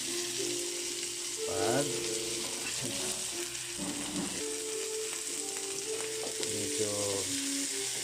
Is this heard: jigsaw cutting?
no